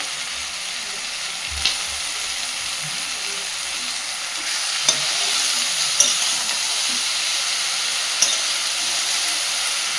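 Cut bottle gourd stirred into a pan of sizzling fish-head gravy, a steady broadband frying hiss with occasional clinks of a spatula against the metal, close and continuous.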